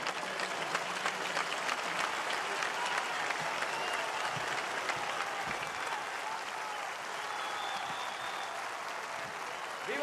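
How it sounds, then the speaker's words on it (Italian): A large crowd applauds the Pope at a meeting with the Neocatechumenal Way, a dense, steady roar of clapping that fills the whole stretch without letting up, with cheering voices blended in. "battiamo le mani, bravo! Bravo!"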